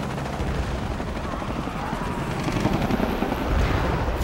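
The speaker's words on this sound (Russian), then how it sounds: "Еще вертолет." A helicopter in the video game Shadow of the Tomb Raider drones steadily through a dense, noisy battle soundscape, with the rotor wash blending into continuous gunfire-like crackle that swells slightly toward the end.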